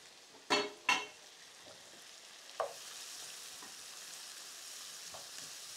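Onions frying gently over low heat in a pan, giving a faint, steady sizzle with a few sharp clinks of a stirring utensil near the start.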